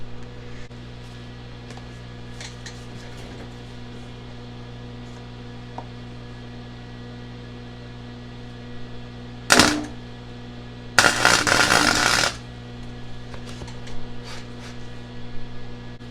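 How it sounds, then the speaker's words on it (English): Two short, loud bursts of spot welding on a clip of a Harbor Freight chainsaw, the first crackling briefly and the second a longer buzzing sizzle, set against a steady electrical hum in a quiet shop. "I'm actually just going to put one little bitty spot weld there"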